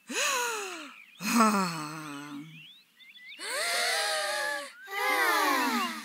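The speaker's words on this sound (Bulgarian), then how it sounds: "Отлично дишане." Cartoon children breathing deep lungfuls of fresh air at a school camp, a series of loud, close, drawn-out voiced inhales and sighing exhales, in four separate bursts.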